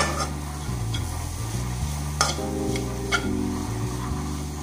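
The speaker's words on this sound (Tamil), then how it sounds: "அப்புறம் இது பியூர் மிளகாய் தூள் எல்லாத்தையுமே சேர்த்து ஒரு வாட்டி நல்லா வதக்கிட்டு இதை ஆஃப் பண்ணிக்கலாம்." Onion, tomato and chilli powder sautéing in a pan, giving a steady close sizzle with repeated stirring scrapes and a few sharp utensil knocks, and no voices.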